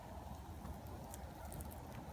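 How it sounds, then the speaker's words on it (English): Rain falls on a wild camp as a faint, steady patter with a low continuous rumble, distant and even, with a few slightly sharper drops and no voices. "Like it's slow rain, and then it's torrential, then it's slow, then it's torrential"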